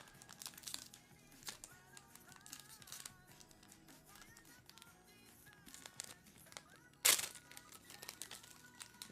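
A Pokémon card booster pack wrapper being crinkled and torn open, with steady soft rustling and a sharp loud rip near the end.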